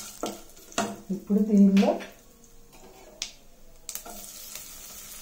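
Small cinnamon pieces fry in a pan with a brief burst of sizzling and a few clinks of utensils, while a person speaks over it.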